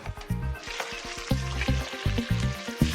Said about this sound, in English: In the bisque goes the shells of the scampi, onion, fennel, garlic and tomato.